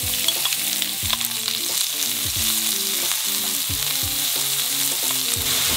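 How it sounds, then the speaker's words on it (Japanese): Sausages and vegetables fry in a pan with a steady, even sizzle, broken by a regular series of stirring scrapes and clanks from a utensil. There is no talking. "しっかりウインナーを焼いたら野菜入れます"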